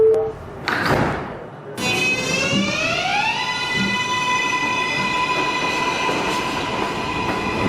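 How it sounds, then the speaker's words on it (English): An R188 New York City subway car on the 7 line, bound for 34th Street–Hudson Yards, pulls away from Fifth Avenue with a loud, close electric motor whine that rises in pitch, then holds steady over the rolling rumble. "This is a 34th Street Hudson Yards bound 7 train."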